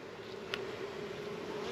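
Honey bees buzzing around an open hive box during a nuc inspection, a steady close drone with one sharp brief tap, with no talking.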